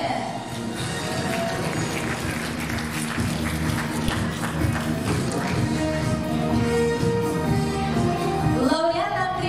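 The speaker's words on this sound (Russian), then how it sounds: "Ваши аплодисменты!" An audience applauds contest participants at a winter children's arts festival in Yakutsk. A sustained, even patter of clapping fills the hall, running steadily under music tones with a slight rise toward the end.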